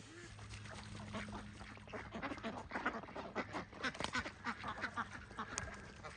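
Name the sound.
rowdy ducks quacking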